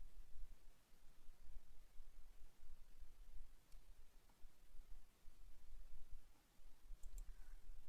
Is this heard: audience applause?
no